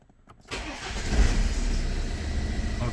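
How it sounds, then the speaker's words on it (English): A BMW 120d diesel car fires up after a half-second of near silence, then settles into a steady, close-up idle rumble. "Now I just have to start the car"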